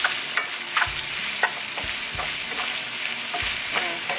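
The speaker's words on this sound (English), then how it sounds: "We'll stir this together." Food is stirred in a sizzling frying pan with beef, salt and pepper, giving a steady crackling fry broken by repeated scraping strokes of a utensil, close and fairly loud throughout.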